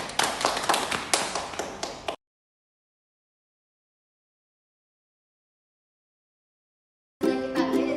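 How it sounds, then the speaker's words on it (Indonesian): A classroom of children claps in a short, lively burst for about two seconds, then it goes silent. Faint tapping and shuffling come back near the end. "Kasih tepuk tangan dulu"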